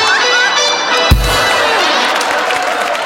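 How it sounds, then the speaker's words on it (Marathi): An audience at a comedy award show on stage applauds loudly, a steady wash of clapping and crowd noise with one sharp thump partway through. "जोरदार टाळ्या"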